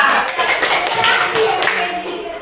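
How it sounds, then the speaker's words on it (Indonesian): Students in a classroom clap for a group as it is called up, a lively burst of applause mixed with chatter and voices throughout. "Tepuk tangan untuk kelompok 2."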